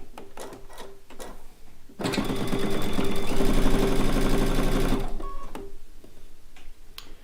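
A home sewing machine runs a steady three-second burst stitching the seam of a fabric bowl cozy, loud and close, framed by light clicks and handling before and after.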